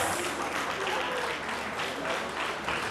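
Dense applause from a crowd at a convention reception, steady clapping at even level throughout, with some voices mixed in underneath.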